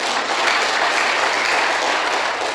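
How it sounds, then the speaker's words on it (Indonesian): Steady, loud applause from a church congregation for the musicians seated at the back, a dense uninterrupted wash of clapping with no talk. "Tepuk tangan buat mereka"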